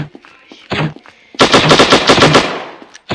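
Loud bursts of rapid automatic gunfire in a mobile shooter video game, a short volley followed by a longer sustained rattle of shots, with brief pauses between.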